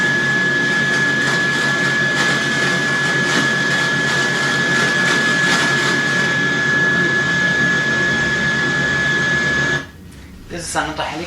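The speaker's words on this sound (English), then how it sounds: "This is another helicopter." Helicopter flying, a loud continuous rotor and engine roar with a steady whine, holding constant before cutting out abruptly near the end.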